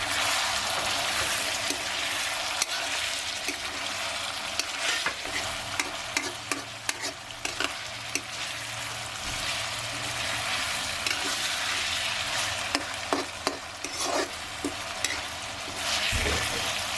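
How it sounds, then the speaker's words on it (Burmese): Pounded garlic and red onions are stir-fried in a pan for pork curry, giving a loud, continuous sizzle with repeated scraping and clattering from a spatula, close up and with no talking. "ရုံးခုနကထောင်းထားတဲ့ကျက်သွန်ဖြူအနီတို့ကို ထည့်ပြီးတော့စီတက်လိုက်ပါမယ်"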